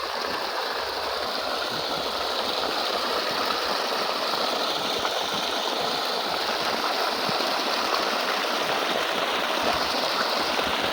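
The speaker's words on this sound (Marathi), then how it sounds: "पाण्याचा प्रेशर बघितला तर खूप मोठा प्रेशर आहे पाण्याचा" Water gushing under pressure from a solar-powered pump motor mounted on a drum in a farm pond, a continuous loud rushing hiss with a low motor hum beneath, steady throughout.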